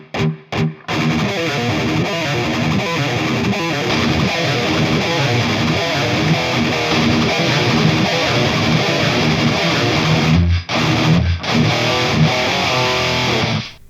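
A harmony riff is played on heavily distorted electric guitar, a dense, loud, fast chugging line with brief stops near the start and near the end, and no talking.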